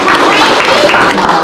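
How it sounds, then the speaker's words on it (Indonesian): A short burst of dense clapping from a gathered group applauding a child, loud and close, a continuous patter with no gaps. "Tepuk tangan untuk beliau."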